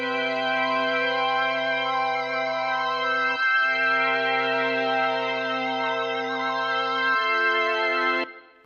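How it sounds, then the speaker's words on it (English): A lush interstellar synth pad holds long, evolving chords with a shimmering, wavering top, loud and close, changing chords twice before cutting off, with no talk. "So I got this interstellar pad,"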